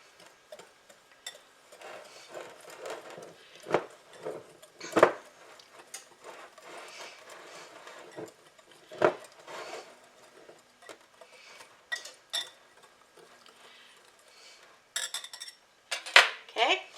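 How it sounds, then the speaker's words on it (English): A whisk clicks and taps against a bowl as dry pancake ingredients are mixed, with irregular light metallic strikes and brief scrapes at close range, fairly quiet, sometimes louder. "and I'm just going to whisk those together."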